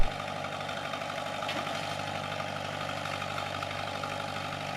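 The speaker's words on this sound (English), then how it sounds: "Shannon finally gave Chris a lesson on his bulldozer." A bulldozer engine runs steadily at a constant low rumble with a slight vibrating drone, close and continuous with no speech.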